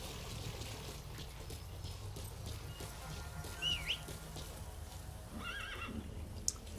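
A horse whinnies briefly in the video game Metal Gear Solid V over a low, steady ambient background, followed by a second faint neigh a moment later.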